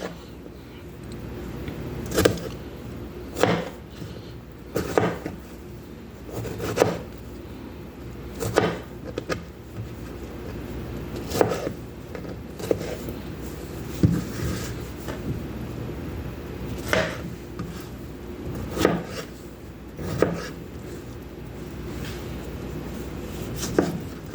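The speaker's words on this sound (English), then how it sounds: "I'm just cutting them in fours and then cutting them in half." A knife cuts strawberries into pieces on a board, making regular soft chops about every one to two seconds over low room noise, with no talk.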